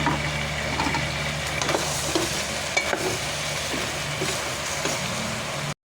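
Food is stirred around a frying pan while sizzling steadily, with scraping utensil strokes and light clatter continuing nearby for several seconds before cutting off abruptly.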